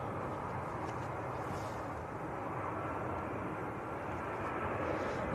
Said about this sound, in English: Next to land, BA from Heathrow.